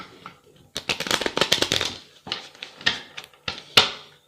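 Tarot cards are shuffled for a cross spread, with quick close bursts of riffling and flicking broken by short pauses.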